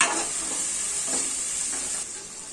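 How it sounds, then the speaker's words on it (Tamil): Boiled chickpeas stirred into sautéed tomato masala in a pan for chickpea biryani, a bright constant sizzle with a couple of soft stirring scrapes, close and with no voices. "இதில் வந்து நம்ம இப்போ வேக வச்சு வச்சிருந்த இந்த சுண்டலை வந்து நம்ம போட்டுட்டு மிக்ஸ் பண்ணிடலாம்"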